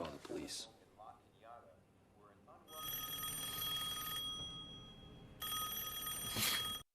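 A telephone bell rings in two long bursts separated by a short pause, loud and close, after a brief stretch of speech.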